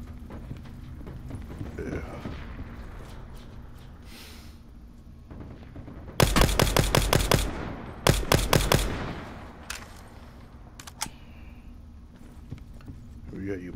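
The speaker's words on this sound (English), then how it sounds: "Guys are shooting at me from the hill." Video game gunfire from enemies on a hill rips out in two loud automatic bursts, the first longer than the second, with sparser single shots and distant pops around them and speech in between.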